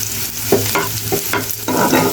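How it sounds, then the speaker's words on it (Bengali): Onions fry in a pan with a close, steady sizzle, broken by several short scraping stirs of a spatula, and no voices. "একটু পেঁয়াজটা ভেজে নিলাম"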